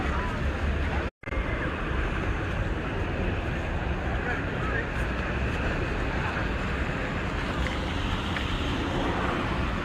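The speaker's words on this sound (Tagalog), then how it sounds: "Lakas ng alon." Ocean surf at Waikiki beach in Hawaii at sunset, a steady broadband wash of waves and wind that fills the scene, with a brief dropout near the start and people chatting nearby.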